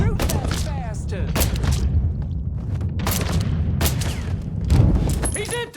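Dense gunfire rattles through a shootout in Mafia III, with continuous bursts of shots and booming hits loud and close, while game characters shout over the fighting.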